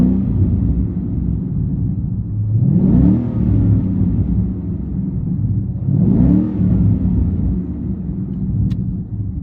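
2015 Mustang GT V8 with a muffler delete, revved twice in neutral at idle, each rev a loud rising roar that falls back to a deep rumbling idle, close and alone.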